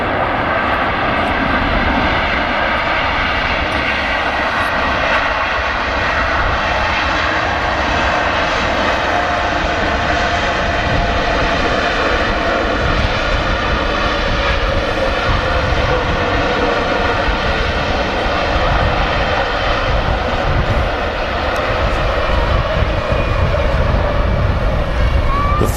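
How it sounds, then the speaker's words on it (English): Jet engines on a Qatar Airways Boeing 777 at Manchester Airport roar loudly and continuously, a thick, steady thunder of engine noise with shifting tonal whine throughout. "Thunderous noise from the Qatar 777."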